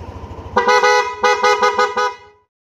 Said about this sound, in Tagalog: Ito naman sa loud horn.